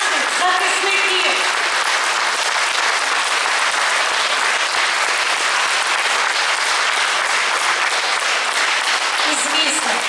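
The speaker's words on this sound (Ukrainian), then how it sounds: "І сьогодні їм всім давайте гучно поаплодуємо" Loud, sustained applause from a large audience at a charity concert, dense clapping holding steady throughout without letting up.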